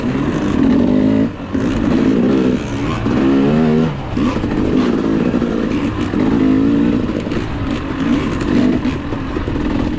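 A KTM 300 two-stroke dirt bike racing a hare scramble course, its engine revving hard and repeatedly with quick throttle blips and brief drops between bursts, close and loud throughout.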